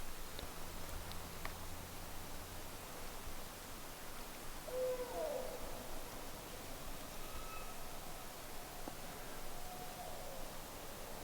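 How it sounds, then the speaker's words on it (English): At night outdoors, a hoot owl gives a single faint, distant hoot midway through, barely rising above a steady background hiss of the woods. "It's a hoot owl."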